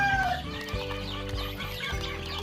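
Italian White Leghorn laying-hen chicks clucking and cheeping together nearby, a busy overlapping chatter of short calls with a couple of higher peeps.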